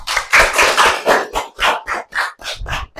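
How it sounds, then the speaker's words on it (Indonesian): An audience claps in a classroom-style gathering, a short round of about a dozen distinct loud claps in an uneven rhythm, close and dry, with no talking. "Kita kasih aplaus dong"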